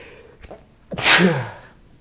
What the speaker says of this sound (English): Sneezes come along quick.